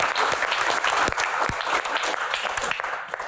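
An audience at a live talk show claps steadily and fairly loudly, a dense continuous patter of hands with no voices over it.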